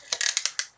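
A quick ratcheting whir of a small pull-back wind-up toy train being pulled back, a few rapid clicks lasting under a second, close and fairly quiet.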